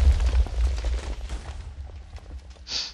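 A TNT cannon in a ship-combat video game fires and its charge explodes, a heavy low boom that rolls and fades, followed by a sharper crack near the end.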